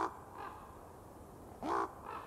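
Crows give harsh, loud caws at a forest roost at dusk, two distinct calls close by, separated by a quiet background hush.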